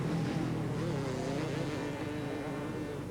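125cc motocross motorcycles race past at a 1995 event in the Czech Republic, their engines a rough, buzzing drone heard from a distance, fairly faint, sustained and slightly wavering.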